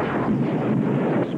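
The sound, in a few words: explosions in a movie commercial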